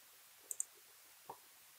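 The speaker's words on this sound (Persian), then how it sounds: "من روش کلیک میکنم" A computer mouse gives two quick, close clicks and then a third a moment later, faint and crisp against near silence.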